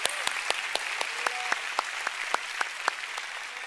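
A small church congregation claps in a sparse, fairly steady rhythm, each hand clap standing out distinctly against a quiet room for a few seconds.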